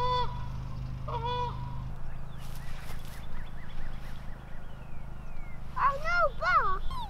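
A goose honks several times nearby, loud nasal calls in short bursts near the start and again toward the end, over a steady low engine or motor hum, with people talking.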